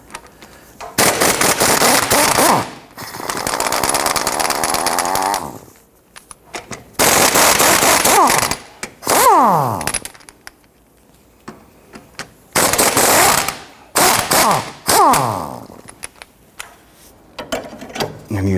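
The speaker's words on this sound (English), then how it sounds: "Using a 17mm socket, let's loosen and remove all three of these for the ball joint." A ratchet and 17mm socket work loose the ball joint bolts on a 1992-1996 Toyota Camry front lower control arm, giving loud, fast clicking bursts that start and stop repeatedly with short pauses between them.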